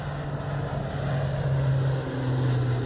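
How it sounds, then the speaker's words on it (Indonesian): The Iranian-built Simorgh turboprop multirole transport aircraft drones steadily in flight, a continuous propeller and engine hum with a low tone that shifts slightly, heard alone. "pesawat bermesin turboprop ini berhasil melakukan tahapan penerbangan perdana"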